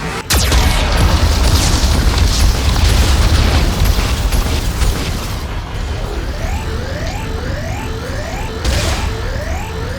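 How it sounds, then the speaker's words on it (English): Heavy booming blasts from a Geth cannon in Mass Effect 2, a loud explosion opening into a dense roar of impacts and rumble, then rapid repeated rising mechanical firing sweeps trailing off. "Warning, Geth cannon is locking on our location."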